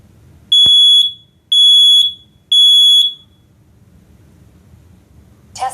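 A Nest smoke and carbon monoxide alarm running its smoke test gives three loud, shrill electronic beeps in an even rhythm, each about a second long. A brief sharp click comes before them, and a short noisy burst follows near the end.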